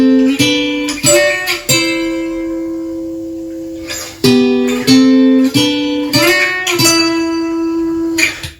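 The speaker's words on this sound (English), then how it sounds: "So those two guitars sound like this." Two acoustic guitars playing a harmony part together, one panned left and one right, with strummed and plucked chords ringing clearly over a hissy home-recording background.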